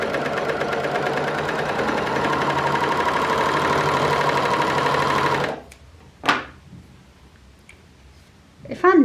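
An overlocker sewing a normal overlock stitch runs with a steady, close mechanical whir for about five seconds, then stops, followed by a few faint clicks and handling sounds.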